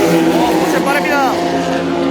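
A Porsche GT race car roars past on a circuit during a rolling start, a loud, continuous engine note with a rising and falling pitch sweep as it goes by.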